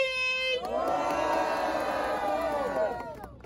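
A crowd at Batalha Da Leste, a Brazilian rap battle, breaks into loud, sustained cheering and shouting for a rapper after a host's amplified call.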